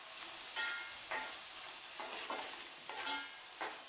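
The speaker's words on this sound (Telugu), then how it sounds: "ఇలా బాగా వేగిన తర్వాత పచ్చిమిరపకాయలు టమాటా ముక్కలను వేసుకుని టమాటా మగ్గే వరకు 2-3 నిమిషాల పాటు వేయించుకోవాలి." Green chillies and tomato pieces fry in a pan for a pomfret fish curry: a soft sizzle broken by repeated scraping stirs, faint and close, with no talking.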